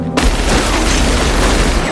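A loud burst of gunfire and explosive blasts from a Battle Royale film scene, starting abruptly after a brief quiet moment and continuing as a dense, sustained roar with low booming rumble throughout.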